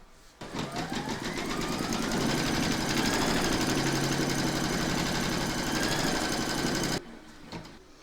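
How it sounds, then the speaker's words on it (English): An embroidery machine stitches a round securing batting and backing fabric on a Santa applique, a loud close rapid mechanical whirr starting abruptly, holding steady for several seconds, then cutting off with brief clicks after. "we're now going to stitch round number 2, and that's going to secure the batting"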